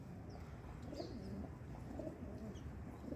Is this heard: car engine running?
no